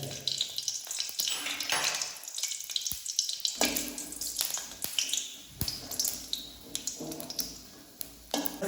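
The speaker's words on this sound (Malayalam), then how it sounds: "നമുക്ക് ആദ്യം തന്നെ കായം ഒന്ന് വറുത്തെടുക്കാം" Asafoetida frying in a tablespoon of hot coconut oil in a pan sizzles and spits in uneven bursts, with clinks and stirring noises between quieter moments.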